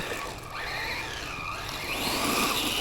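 A VRX Racing VRX-2E 1/8-scale electric RC buggy runs over grass and gravel beside a community hall, a steady high motor whine with rising pitch sweeps, close and loud throughout, no voices.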